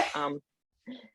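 A single sneeze from someone near a meeting presenter, a short burst of noisy, breathy sound, followed after a brief silence by a quieter reply.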